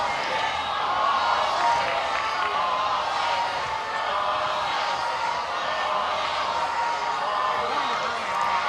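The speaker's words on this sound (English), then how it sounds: "Crowd getting on Brown with the ball 6 chant right now." Softball stadium crowd at an NCAA regional game between Arizona State and Texas A&M, a steady broad roar of voices chanting and cheering throughout, with no clear rhythmic beat standing out.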